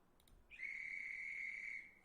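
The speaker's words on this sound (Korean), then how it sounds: "호루라기 이렇게 검색하면 호루라기 소리가 있네" A single shrill whistle blast, high and steady, held for over a second against a quiet background.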